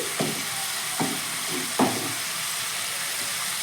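Masala cauliflower fry sizzling in a pan while being stirred, with a steady frying hiss and three distinct scraping knocks of the spoon against the pan spaced about a second apart.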